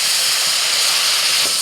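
A splash of water hits a hot pan of cabbage spiced with turmeric, coriander, cumin, red chilli powder and salt, bursting into a loud, close, continuous steamy hiss.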